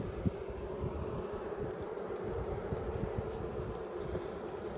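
Honey bees buzz in a dense, steady drone throughout a Layens hive check, close and continuous with no voices over it.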